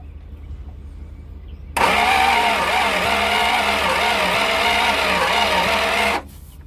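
A 1963 limousine engine left unused for 21 years cranks steadily for several seconds with a loud, continuous whirring drone that pulses slightly but never catches, then cuts off abruptly.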